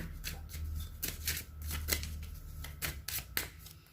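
Close, crisp riffling of a deck of Three Kingdoms fortune-telling cards, shuffled in several quick bursts over a quiet background.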